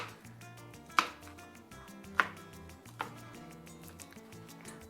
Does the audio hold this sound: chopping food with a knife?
yes